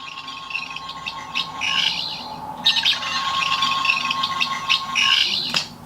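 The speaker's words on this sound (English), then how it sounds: "Now, the double tap, this is the diagnostic sound effect," A 13th Doctor sonic screwdriver toy plays its diagnostic sound effect, a warbling, chirping electronic trill with bright bursts and a faint steady tone underneath, close and alone.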